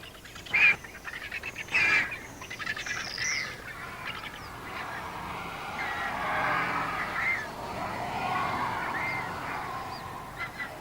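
Calls from a griffon vulture colony with chicks in southern Africa, a few loud honking squawks up close at first, then a steady murmur of overlapping cries from many birds.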